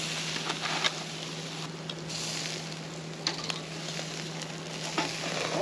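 Steak sizzles steadily on a charcoal grill while being flipped, a dense close hiss with a few light scraping knocks from the utensil.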